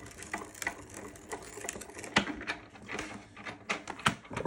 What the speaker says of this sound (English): We're going to roll it through again through our Sizzix Big Shot Plus.